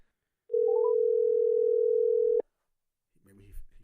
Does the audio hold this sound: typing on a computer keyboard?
no